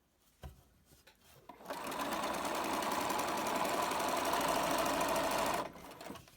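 A sewing machine runs a straight stitch along the edge of a fold in fabric for a scrubs bag. It whirs steadily and close for about four seconds after a couple of short bumps, then stops.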